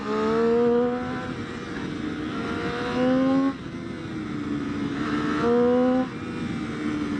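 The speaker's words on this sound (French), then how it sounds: "c'est l'échappement qui vient compléter la sonorité de l'admission et ça devient absolument génial." A 2013 Triumph Street Triple 675 R motorcycle engine revs repeatedly, its exhaust note rising and falling in steady waves, loud and close with a constant mechanical roar.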